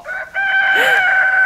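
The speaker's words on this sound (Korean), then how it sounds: "닭이다" A rooster crows once at a traditional market in a long, loud, sustained cock-a-doodle-doo that rises and holds steady near the end, preceded by a brief softer call.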